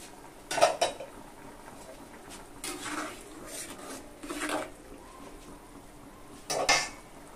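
A metal lid comes off a pot of rui fish curry with ridge gourd, cooked on high heat. A few sharp metallic clanks and scrapes of cookware are scattered over a quiet kitchen background.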